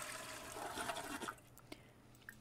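A toilet flush in the video game The Sims 4 gives a gushing watery rush that peaks and then drains away into quieter gurgles and a few small drips, fairly soft and without talk.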